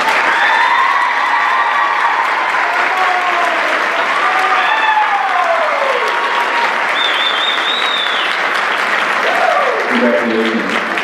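Loud, sustained applause from an audience at a 2014 community celebration, dense and continuous, with cheers and whoops rising over the clapping throughout.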